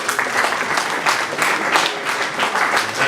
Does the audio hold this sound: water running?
no